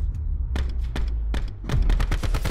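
A Black Ops 4 pistol in a Search and Destroy match fires a quick series of sharp, close shots, about eight cracks in an uneven rhythm that bunch together toward the end.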